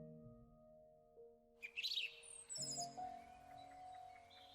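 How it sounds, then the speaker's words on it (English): A robin sings in a visual novel game, a short bright burst of chirps over a steady background music drone, close and fairly loud before the melody continues. "That bird is loud in my ear."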